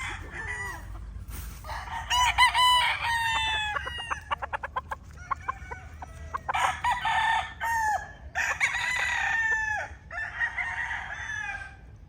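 Several roosters crow one after another at close range, long rising and falling calls overlapping with clucks and a burst of rapid staccato calls in the middle, with no talk.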